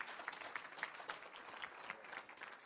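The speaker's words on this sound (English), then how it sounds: "Let's all give Stefan a round of applause, and we appreciate your time today." An audience at a Teradata Partners Conference 2016 talk claps in steady, fairly faint applause, with individual claps popping through the dense patter throughout.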